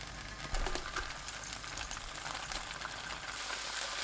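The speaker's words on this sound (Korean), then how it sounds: "팬에 식용유 한 큰술 두르고 두부 올려주세요" Tofu frying in a tablespoon of cooking oil in a pan gives a steady, fairly quiet sizzle that hisses evenly, with a soft bump near the start.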